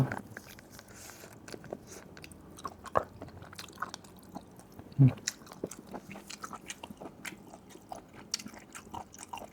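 Someone bites and chews an A-Liu konjac sheet snack close up, soft wet crunches and squishy mastication clicks scattered irregularly, with one louder bite midway and quiet background.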